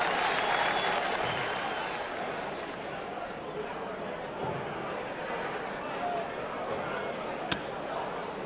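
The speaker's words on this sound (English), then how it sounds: "Crowd appreciate." Applause from a darts crowd at the 2008 PDC World Championship, rewarding a checkout: dense, steady clapping and crowd noise filling the hall for several seconds, slowly easing off.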